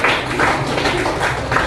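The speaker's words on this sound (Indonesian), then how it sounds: "tepuk tangan sekali lagi untuk Nadia" Classroom audience clapping for Nadia, a short burst of dense, steady applause from many hands with no break.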